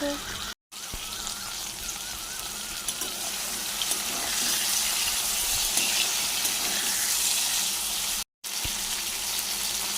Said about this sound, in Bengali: পোস্তটা চলো ভালো করে নেড়ে নিই পোস্তটাকে